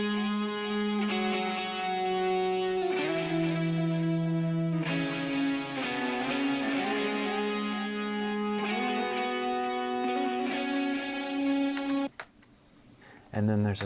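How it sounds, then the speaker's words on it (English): Electric guitar playing a line of sustained, harmonized notes in a rock track, held tones shifting pitch every couple of seconds, loud and up front before cutting off near the end. "just a guitar that plays during the third verse"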